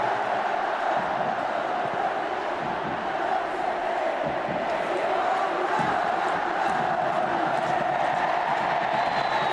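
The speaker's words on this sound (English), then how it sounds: "And a magnificent crowd inside this stadium, making it a great occasion." A large stadium crowd roars steadily through a Copa del Rey extra-time football match between Atletico Madrid and Real Madrid, a dense sustained wall of cheering and chanting with no clear break, heard at a distance.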